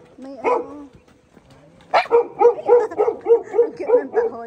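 Dogs bark along a mountain hiking trail on Mt Kupapey: a single yelp, then a quick run of about eight rhythmic close barks, with a faint voice early on.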